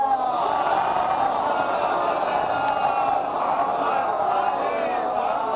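A congregation chants salawat together at a Chehlum (Arbaeen) majlis in Lucknow, a loud, sustained wash of massed voices filling the hall evenly.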